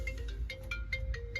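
A mobile phone ringtone plays a short, bright electronic melody of quick repeating tones, clear and close, with no one speaking.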